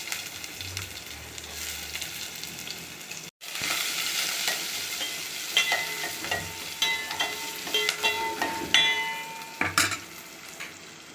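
Onions frying with mustard seeds, urad dal and fenugreek in hot oil in a pan for a green gram curry, sizzling steadily while a spoon scrapes and stirs in bursts, close and fairly quiet, with a brief gap near the start.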